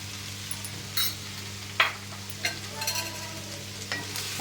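Stir-frying spice masala into valpapdi vegetables in a pan, with a soft steady sizzle under several short scraping stirs of a spoon, close and fairly quiet.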